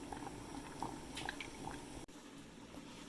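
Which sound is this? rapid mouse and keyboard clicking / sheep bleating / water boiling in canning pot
water boiling in canning pot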